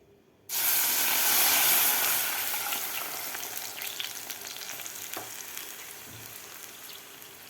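Milk hits hot ghee in a pan with a sudden loud burst of hissing sizzle that slowly settles into a steady, softer bubbling fry, close and alone without speech.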